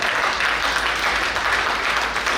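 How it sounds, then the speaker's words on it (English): Steady applause from a crowd, a dense, even patter of clapping that holds throughout without pause. "a round of applause as I recognize"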